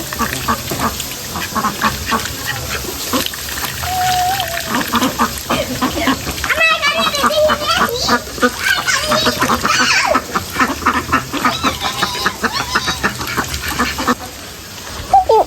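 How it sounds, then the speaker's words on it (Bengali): Ducks quack repeatedly over a constant hissing background, with brief voices mixed in. "হাঁস কলা গাছের পাতাও খায় নাকি?"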